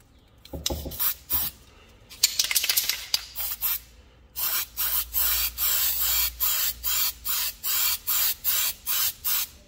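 Heavy wet coats sprayed from an aerosol can onto 3D printed parts, a string of steady hissing bursts in a regular rhythm, loud and close, with rustling handling noise early on.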